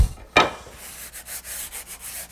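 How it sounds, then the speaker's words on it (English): A sanding block rubs across wood in short, steady back-and-forth strokes after a sharp initial scrape, close and fairly loud with no talking. "So I was just a little more light sanding. You got to have a good block."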